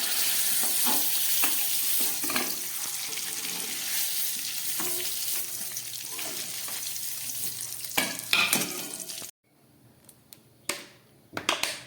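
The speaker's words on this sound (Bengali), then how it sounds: "পনিরগুলো খুব হালকা করে ভেজে নিলাম, এবার তুলে ফেলছি।" Paneer pieces being lightly fried in oil give a loud, steady sizzle with scattered clicks and scrapes, then a few louder knocks before the frying sound abruptly drops away, leaving faint handling noises near the end.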